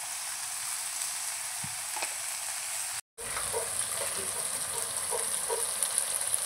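Chicken pieces fry in a cooked-down spice paste with released oil for a village-style chicken kosha, a continuous close sizzle with a short silent break midway and faint scraping afterward.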